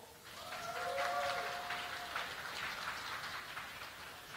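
An audience at a science slam event in Moldova applauds, a steady patter of clapping that swells and then eases while staying fairly faint and distant.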